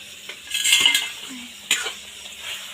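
Meat cooking in a pan at home, with a utensil clattering and scraping against the metal in a few quick bursts over a faint sizzle, then settling into quieter stirring.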